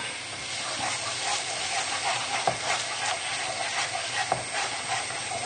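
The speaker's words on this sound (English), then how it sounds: "we'll just give that a stir in as well" A milk sauce for salmon tagliatelle hisses and bubbles in a pan while being stirred, a continuous steamy sizzle with a few faint scrapes, fairly quiet and without speech.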